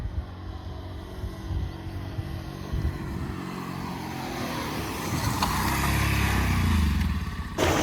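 A Bajaj Pulsar 180F motorcycle engine grows steadily louder as it approaches in a drag race, its low rumble swelling and rising in pitch before cutting off abruptly.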